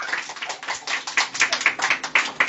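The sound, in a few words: applause at a Mother's Day celebration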